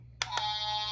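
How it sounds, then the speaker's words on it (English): A Paw Patrol toy vehicle's electronic horn gives two short beeps followed by a sustained buzzy tone, fairly quiet over a low steady hum. "That's the horn of his vehicle."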